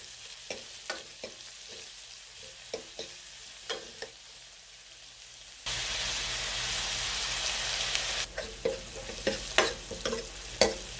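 Oil sizzles steadily while onions and curry leaves are stirred in a pan for a spinach curry, with sharp scraping clicks of a spoon; the frying grows louder partway through.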